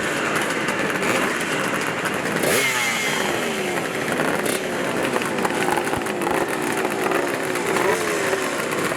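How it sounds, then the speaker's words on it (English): A 1954 Triumph Tiger motorcycle racing around Glen Helen Raceway, its engine loud and continuous and rising and falling in pitch through gear changes across the whole stretch. "It is a lot of fun riding these old bikes."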